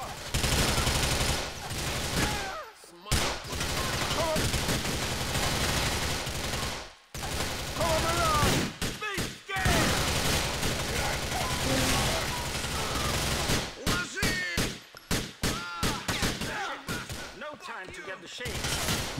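Heavy, sustained gunfire from modded weapons in GTA IV roars almost nonstop. Loud rattling bursts are broken only by brief pauses, and muffled voices sit under the barrage.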